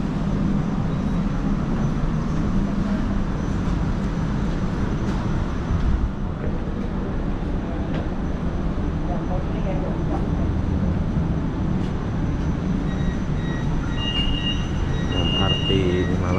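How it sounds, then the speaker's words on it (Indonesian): MRT metro train running underground beneath the PNB 118 building in Kuala Lumpur, a continuous rumble of wheels and carriage noise with faint high squeals near the end, heard from inside the station. "MRT di Malaysia."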